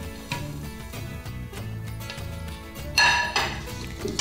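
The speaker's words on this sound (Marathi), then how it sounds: "गूळ छान मिसळला गेला की हे भाजलेल्या पोह्याचं मिश्रण हेही यात घालायचं" Roasted poha mixture being tipped into softened jaggery in a pan for poha modak gives a run of clinking metal scrapes and taps against the pan, with a louder clatter near the end and no speech.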